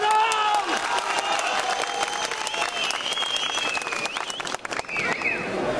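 A crowd at a Turkish political rally claps loudly and continuously, with cheering voices rising over the dense applause throughout.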